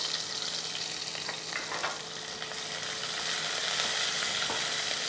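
Onions, curry leaves and finely chopped green chillies fry slowly in a pan for a cabbage lunch-box dish, giving a steady, dense sizzle with a few soft crackles and no voices.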